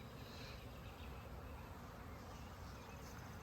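A swarm of honey bees buzzing outdoors near a hive, a steady faint drone that stays even throughout without breaks or talk.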